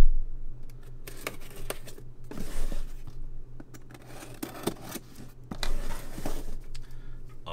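Plastic packaging around a custom-built 1/6 scale Johnny 5 figure being cut open, with scissor-like snips and crinkling in irregular bursts close by under a steady low hum, with no talking.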